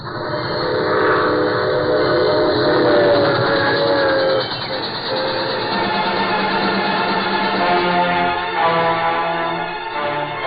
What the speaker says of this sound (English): There goes the troop train.